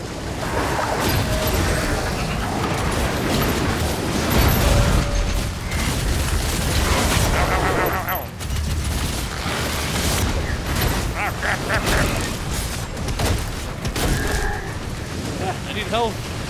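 Dense, chaotic action in DOOM: The Dark Ages with repeated booms, bursts and rumbling blasts going on nonstop, loud and cluttered throughout.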